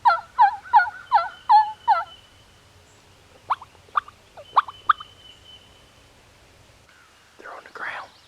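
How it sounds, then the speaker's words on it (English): Several wild Eastern turkey hens yelp in quick rhythmic series in South Carolina turkey season, then scattered sharper calls follow, moderately close, with a soft rustle near the end. "He's got hens, they're yelping."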